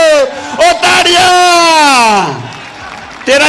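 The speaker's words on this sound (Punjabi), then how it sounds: "ਉਹ ਤਾੜੀਆਂ" Crowd applause and cheering at an outdoor kabaddi tournament in Griffith, Australia, loud beneath a commentator's long, drawn-out shout that rises and then trails off.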